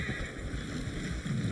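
Horses neigh and whinny in Red Dead Redemption 2, a short, steady burst of equine calls over a dense game soundscape with what sounds like hoof clops and water nearby, no talking.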